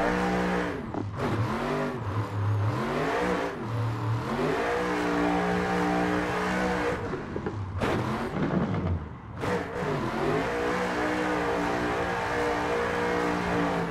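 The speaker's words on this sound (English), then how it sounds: "Car just lights up the tires." A 2024 Ford Mustang drift car in a video game roars at high revs, its engine pitch climbing and falling in repeated sweeps as the tires spin, loud and continuous with brief dips between shifts.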